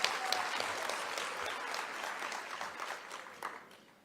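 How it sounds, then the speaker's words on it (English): An audience at a presidential social sector summit breaks into sustained applause, a dense, fairly distant wash of clapping that slowly fades toward the end. "give yourself a round of applause"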